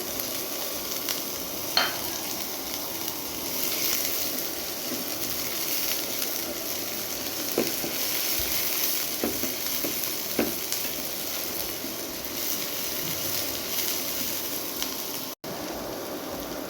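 Chopped onion, garlic and green chili sizzle steadily in hot oil in a pan, a constant close hiss with occasional small pops and spoon clicks, no voices.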